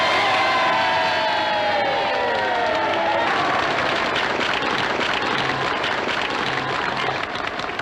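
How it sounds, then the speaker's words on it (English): A crowd at a gathering gives a loud, sustained cheer mixed with clapping and shouts. The cheer swells at once and holds steadily near the listener without fading. "give her a thundering good cheer"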